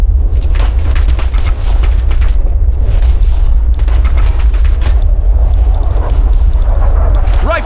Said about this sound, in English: I'm taking fire over here.